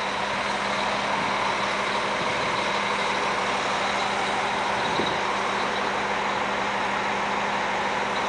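A truck idles before hauling a chained-up loader, its engine holding a steady, loud, close drone for the whole stretch, with no talking.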